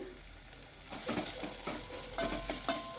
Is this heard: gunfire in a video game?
no